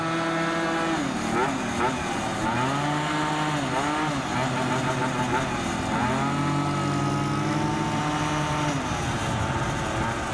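A Yamaha BWS 70 scooter with a Stage6 engine buzzes loudly and continuously while being ridden, its pitch rising and falling with throttle changes, with faint talk underneath.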